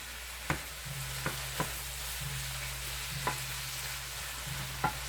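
Head-on shrimp are sautéing in a pan with a soft, even sizzle, and a few light taps and scrapes from stirring sound at intervals. No one talks.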